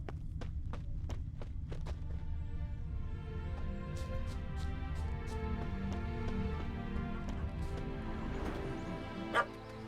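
Dog barking in The Witcher 3: Hearts of Stone video game, a run of sharp, evenly spaced yips up close at first, then sparser barks over a low, steady game soundscape.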